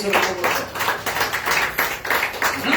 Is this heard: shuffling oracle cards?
no